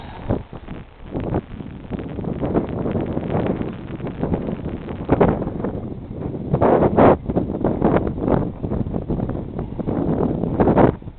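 Steady wind buffeting a microphone, a continuous rumbling roar with gusty surges throughout, no speech.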